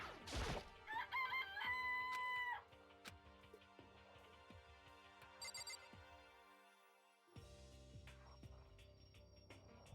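A rooster crows in the Danganronpa video game, a loud, clear cock-a-doodle-doo near the start, followed by electronic game music with chiming tones and a brief pause before it resumes.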